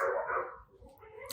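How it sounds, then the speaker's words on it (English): Neighbors' dogs bark in a short, fairly loud burst at the start of the moment, then fade into a quieter stretch with faint background noise. No one speaks over them. "Excuse the neighborly dogs."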